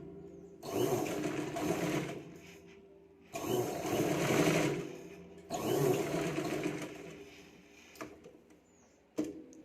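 Sewing machine stitching a katori blouse, running in three sustained whirring bursts of about two seconds each with short pauses between, then a couple of brief mechanical clicks at the end.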